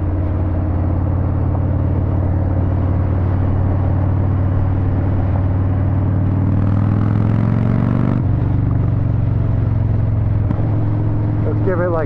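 A 2008 Yamaha Raider motorcycle engine drones loud and steady under throttle, holding a deep rumble and then shifting pitch partway through, with wind noise constant throughout.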